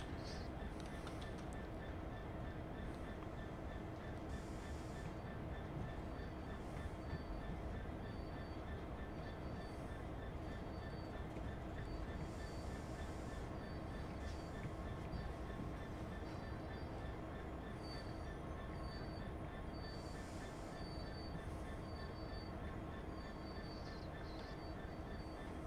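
Continuous rumble of a freight train hauling aggregate wagons on the Great Western line in Train Sim World, with steady rolling noise, occasional metallic squeal of braking wheels and faint talk underneath.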